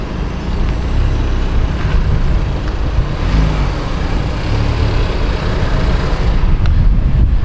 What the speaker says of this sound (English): The car is pulling out right now.